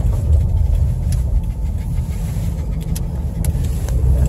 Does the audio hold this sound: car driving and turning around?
yes